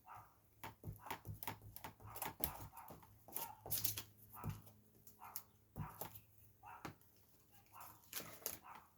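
Small dogs bark and yap repeatedly in uneven bursts, fairly close, with some whimpering between barks.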